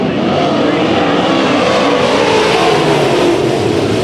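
IMCA Modified race cars at a dirt track accelerating together at the green flag, a loud, dense roar of many engines filling the air continuously, with a commentator's voice partly audible beneath.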